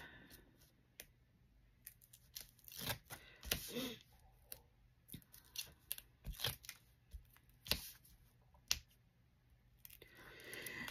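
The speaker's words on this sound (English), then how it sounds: "We're going to go ahead and take all of our double-sided tape off." Backing strips being peeled off double-sided tape for a handmade shaker card, a quiet run of sharp crackling tears and clicks spread irregularly across the stretch, close and faint, with no talking.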